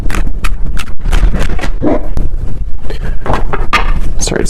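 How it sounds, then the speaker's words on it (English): Strong wind buffets a microphone outdoors, making loud, rumbling, gusty bursts that fill the whole stretch and overload the low end. "Sorry, it's super windy outside, so I had to stop it for a minute there."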